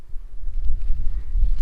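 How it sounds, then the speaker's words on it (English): Steady low wind rumbles and buffets across the microphone at a wild campsite in the Lake District, gusting unevenly throughout with no voices. "It's a little bit windy, as you can tell"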